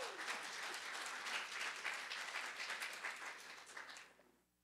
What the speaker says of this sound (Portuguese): Você pode aplaudir mais uma vez para tomar água?